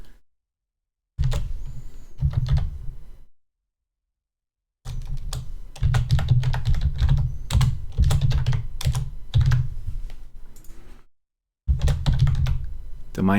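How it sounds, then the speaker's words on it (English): Bursts of typing on a computer keyboard, with irregular clusters of key clicks separated by short pauses. The keystrokes are close and moderately loud and sound alone, with no talk over them. "Don't mind the typing noises."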